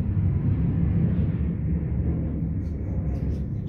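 An airplane passes overhead near a lecture hall, a loud, steady low rumble that fills the whole stretch without letup and fades only slightly toward the end, with no talking.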